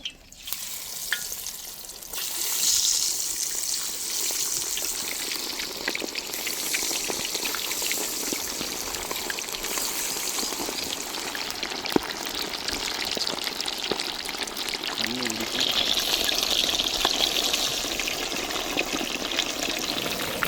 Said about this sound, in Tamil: அப்படியே மீனை வந்து ஒன்றா போட்டு பொரிச்சு எடுத்துக்க போகிறோம்